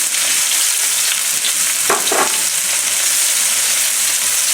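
Onions sauté in hot oil for a rolled stuffed fish fillet, a steady close hiss with a brief scrape of stirring partway through and no talking.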